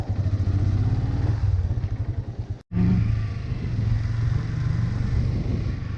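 A motorbike engine idles and putters close by in a steady rhythmic chug, cutting out briefly for a moment before it restarts and runs on evenly.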